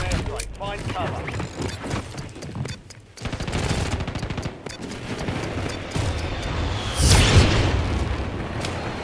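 A precision airstrike in the video game Warzone, heard as a burst of heavy booms and rattling blasts with louder explosions near the end, mixed with game voices and gunfire.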